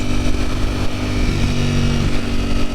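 A Ducati Panigale V4 engine runs close and loud at part throttle, a rough, steady, throbbing drone holding a fairly constant pitch throughout.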